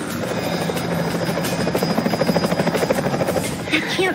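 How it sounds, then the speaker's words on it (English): Helicopter rotor chopping loudly and steadily throughout, a dense close whirring pulse with a faint voice underneath, in an animated action scene. "Now you can ride the helicopter."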